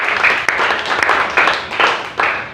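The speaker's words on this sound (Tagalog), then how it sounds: "Sabay-sabay na palakpak sa ating Diyos na buhay" A church congregation claps together during a Tagalog sermon, loud, dense applause in several swelling bursts that fill the whole stretch.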